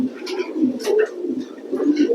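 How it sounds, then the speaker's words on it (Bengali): A male racing pigeon from a loft coos in soft, repeated low throaty phrases, close by and fairly steady, with faint higher chirps behind it. "তো দীপু দেওয়ান ভাইয়ের লফটের এটা কবুতর।"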